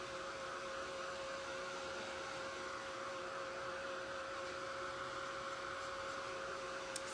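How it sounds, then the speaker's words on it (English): Blow dryer aimed at napkin art to set it, a faint but steady airy whoosh with a constant motor whine, continuous and without talk. "treat it like you're kind of blow drying at it. Just let the air kind of go at it to let it dry."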